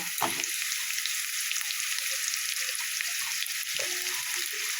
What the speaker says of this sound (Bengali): আলু আর ফুলকপি দুটোই কিন্তু আমি ভালোভাবে আগে ভাজা করে নেব।